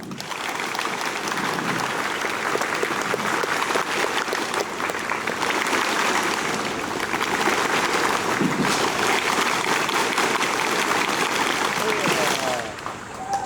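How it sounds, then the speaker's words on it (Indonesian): Sustained applause from a large crowd at an outdoor anniversary ceremony of Makassar's city water utility, steady and dense throughout, fading slightly near the end. "Tepuk tangan."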